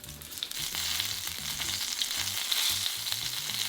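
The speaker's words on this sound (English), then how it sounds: "Transfer the dumplings to the pan. Fry until crispy, about 2 minutes on each side." Shrimp dumplings wrapped in rice paper frying in oil in a pan, giving a continuous soft crackling sizzle heard up close at low volume.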